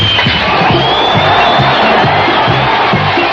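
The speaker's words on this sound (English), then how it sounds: "that brings a cheer from the Seattle fans" Crowd of Seattle Mariners fans cheering at a vintage baseball game against the Angels in the middle of the sixth inning, a steady, loud roar of many voices with whoops, under a low rhythmic thumping.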